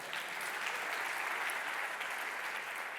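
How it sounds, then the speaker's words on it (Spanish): A conference audience applauds a speaker with a smooth, continuous wash of clapping, evenly loud from start to finish and free of speech. "Así que, por favor, un aplauso"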